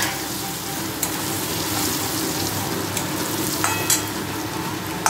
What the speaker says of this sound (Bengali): দেবো কাশ্মীরি রেড চিলি পাউডার, দিয়ে এটাকে একটুখানি ভালো করে ভেজে নেব।